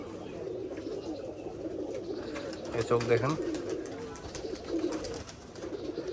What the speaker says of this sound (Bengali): এটা হচ্ছে গলায় লাল কবুতর